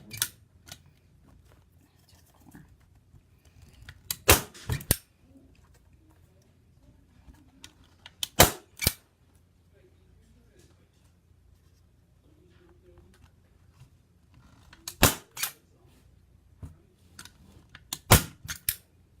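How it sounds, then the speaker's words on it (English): Sharp, loud staple-gun snaps stapling canvas around a frame arrive in pairs and small clusters, separated by quiet pauses with faint handling noise between them. "I'm going to staple it all the way around."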